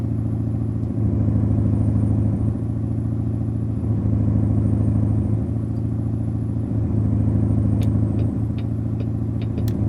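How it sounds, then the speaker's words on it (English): A heavy truck engine in American Truck Simulator drones loud and steady near the top of its rev range in third gear, a continuous low rumble with slight pulsing and no talk. "doing 25 in third gear and being at the top of the rev range"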